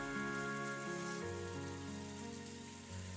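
Rain sound effect from the visual novel Umineko, a steady soft hiss of falling rain on a rose garden, heard faintly under sustained musical tones.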